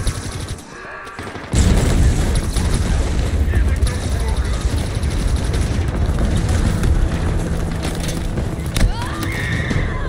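Explosions and heavy gunfire in the Halo Infinite co-op campaign, a loud sustained roar of blasts and bursts after a short quieter lead-in, with game voices and a rising whine near the end.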